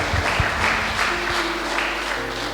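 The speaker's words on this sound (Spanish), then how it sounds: "Dale un fuerte aplauso a Dios." A church congregation at a Sunday service applauds in a steady wash of clapping, with a low electrical hum and faint tones underneath.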